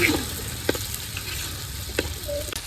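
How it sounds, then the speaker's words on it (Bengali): Steady crackling sizzle of fish frying with spices, with occasional clinks of a utensil stirring the pan, close and continuous without talk. "মাছ মশলার লাগে আবার একটু কষালেন"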